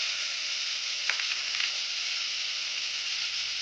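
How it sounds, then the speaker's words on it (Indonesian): Butter melts in a pan for pumpkin soup, giving a steady, even sizzle with faint crackles and light pops, continuous and moderately quiet throughout. "pertama-tama kita lumerin dulu menteganya"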